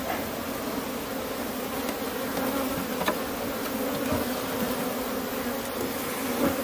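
Honey bees buzz loudly around hive frames while an artificial swarm is being made, a dense, steady drone up close with no talk.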